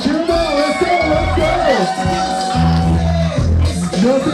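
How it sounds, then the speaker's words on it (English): A crowd cheers and whoops loudly and steadily at a close-range contest where participants grab a prize with only their teeth, with shouts and voices blending into the noise. "Come on guys, cheer them on, let's go"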